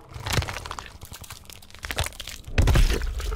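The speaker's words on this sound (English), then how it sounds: "Johnny Cage wins. Fatality." Fatality finishing move in Mortal Kombat X, with Johnny Cage winning: a dense run of crunching, cracking and breaking impacts, loud and close, swelling into a heavier crunch near the end with no speech.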